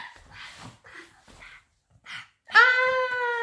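A voice imitates a dog's bark with a sustained, strained yelping howl that rises loudly after a few words of Italian speech from an adult, close and clear.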